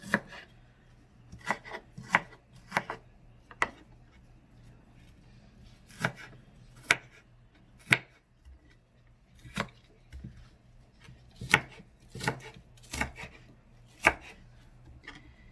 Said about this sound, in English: I chop mine up always differently every time I cut onion